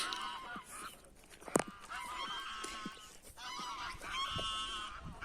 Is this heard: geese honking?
yes